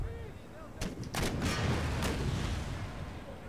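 Cannon and musket volleys in the Empire Total War strategy game, a cluster of sharp bursts followed by a sustained rolling barrage of battle noise, moderately loud and without speech.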